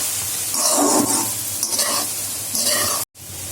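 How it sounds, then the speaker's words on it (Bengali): Capsicum and soy sauce being stirred in a pan, a steady sizzle with scraping spatula strokes that pause briefly near the end. "আর এবার ভালো করে আমি নেড়ে মিশিয়ে দিচ্ছি।"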